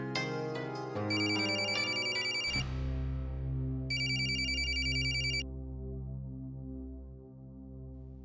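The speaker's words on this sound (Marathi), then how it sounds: "बेल वाजते तरी उचलत नाही." A telephone rings steadily with an electronic ringtone, repeated tonal chimes over a droning musical hum, fairly quiet, with no speech.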